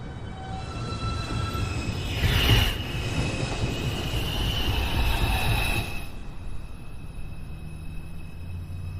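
An automated NYC subway 2 train arrives at 215th Street station, its wheels rumbling and squealing loudly along the rails, with a sharp high screech rising midway and a steady roar throughout, no voices.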